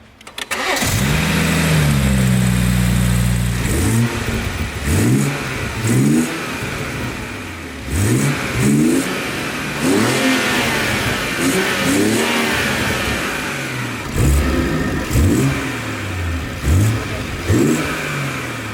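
A BMW M140i fitted with an Eventuri intake cranks and fires up with a loud flare, then settles into idle and is blipped through a series of quick, sharp revs rising and falling.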